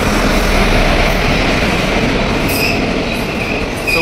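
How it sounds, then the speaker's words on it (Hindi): An Indian Railways passenger train pulls into a station, loud and close, with a continuous rumble of wheels on rails and faint squeals of braking wheels and no voices. "आ चुकी है हमारी ट्रेन"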